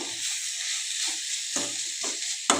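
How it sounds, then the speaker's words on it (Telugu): Garlic frying in a pan, giving a constant close bright sizzle with a few soft stirring scrapes and a sharp tap near the end, with no talking. "దాంతో తెల్లుల్లిపాయలు కూడా మంచి ఫ్రై అయ్యాయి."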